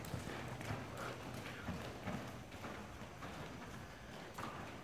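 Hooves of a horse clip-clop in a steady trot during a riding lesson, muffled and faint under a broad noisy background with a rhythmic beat of thuds.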